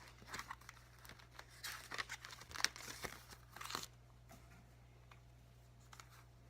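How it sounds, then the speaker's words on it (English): Pen or pencil writing notes on paper, close and soft, with scratchy strokes and light crinkles for a few seconds before fading to quiet room tone. "Let me just write these findings down"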